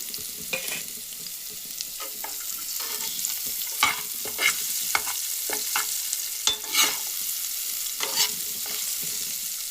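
Onion and chilli pieces sizzle in tempering oil, a continuous hiss punctuated by frequent spatula scrapes and stirs against the pan, close and moderately loud.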